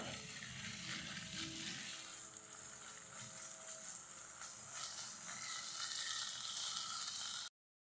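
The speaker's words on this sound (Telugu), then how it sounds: "ఒక స్పూన్ అల్లం వెల్లి పేస్ట్ అల్లం పేస్ట్ వేసి పచ్చివాసన పోయేంతవరకు వేయించుకోవాలి" Ginger-garlic paste fries in a pan for egg biryani, making a steady crackling sizzle with bubbling bursts that continues evenly for several seconds and then cuts off.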